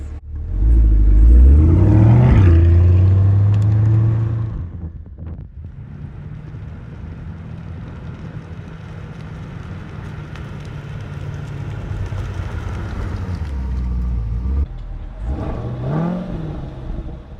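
A Chevrolet C8 Corvette on a test drive, fitted with brake pads under comparison: a loud engine surge and rev for the first few seconds, then a steady cabin road and wind roar, rising again briefly near the end.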